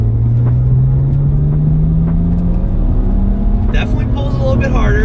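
A BMW accelerating hard in third gear during a performance log, its engine note rising steadily as it pulls, heard loud and close from inside the car, with a voice speaking over it near the end.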